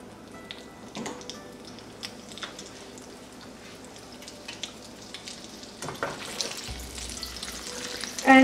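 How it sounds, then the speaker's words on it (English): Chicken pieces being refried a second time for Korean fried chicken in hot oil, a steady crackling sizzle with scattered pops, growing louder and busier toward the end. "now I will refry it the second time"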